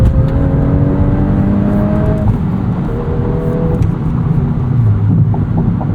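2023 Volkswagen Golf R manual hot hatch, 20th Anniversary Edition, engine pulling hard through the gears from inside the cabin, revs climbing, dropping briefly at a shift, then rising again, loud and steady with no talk.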